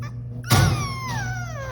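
Rescued puppies saved from flooding in eastern Kentucky whimper in a short, high, wavering cry that rises sharply and trails off, heard close over a low steady hum.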